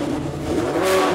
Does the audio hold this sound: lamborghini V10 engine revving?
yes